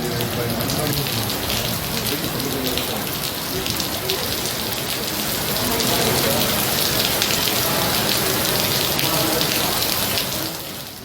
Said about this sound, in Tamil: நாமக்கல் மற்றும் அதன் சுற்று வட்டார பகுதிகளில் காலை முதலே வானம் மேகமூட்டத்துடன் காணப்பட்ட நிலையில் மிதமான மழை பெய்தது